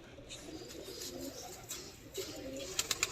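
Pigeons at a breeder's home give soft, low cooing in a quiet setting, a few faint murmured calls rising over a light background, with brief clicks near the end.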